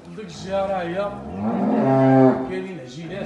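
Young heifers at a cattle farm selling Montbéliarde and Holstein cows moo in long, drawn-out calls that rise and swell, close by and loud, with a faint voice in the background.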